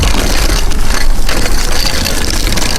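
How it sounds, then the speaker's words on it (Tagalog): A vehicle engine rumbles along a road in Greenland in summer, a steady low drone heard up close with wind-like noise and no talking. "May sasakyan ha."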